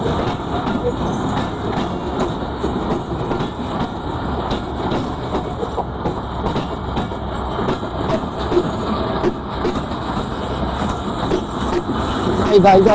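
Barendra Express train running on rails, a steady loud rumble of wheels and carriages with rhythmic clatter that swells louder toward the end, voices talking over it.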